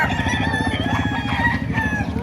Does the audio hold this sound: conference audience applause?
no